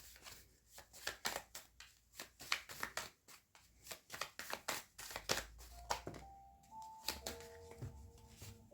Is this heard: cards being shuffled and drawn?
yes